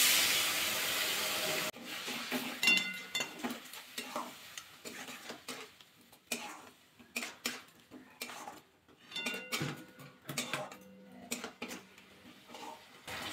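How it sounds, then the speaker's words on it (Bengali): Spice paste with a little water being cooked down in a pan for an egg dish, heard as repeated scraping and clinking strokes of a spoon against the pan, with a short burst of sizzling at the start and quieter gaps between stirs. "সামান্য জল দিয়ে মশলাটা ভালো করে কষিয়ে নেব।"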